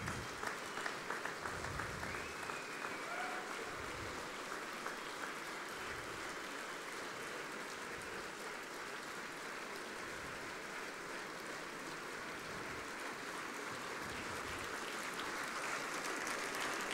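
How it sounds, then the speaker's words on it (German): Audience at a town New Year's reception applauds a dance school's performance, a dense, steady wash of clapping that carries at an even level for the whole span with no voices above it. "Das ist ihr, das ist euer Applaus."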